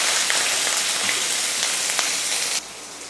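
Garlic clove, onion and curry leaves sizzle in hot oil in a pan after mustard seeds pop, a steady close hiss that drops slightly in level near the end, with no talk.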